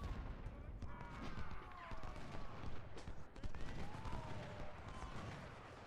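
Civil War artillery and musket fire in the Ultimate General: Civil War strategy game. Dense, crackling volleys and distant booms roll on continuously at a moderate level.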